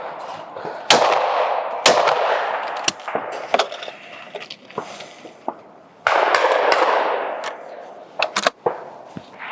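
A Blaser F3 shotgun fires at clay targets outdoors, with several loud sharp blasts at irregular intervals, each followed by a rolling echo, and no talking.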